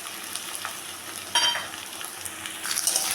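Garlic paste, ginger paste and chopped tomato fry in a pan with a steady, soft sizzle, broken by a brief louder burst of spatter midway and a few scraping stirs near the end.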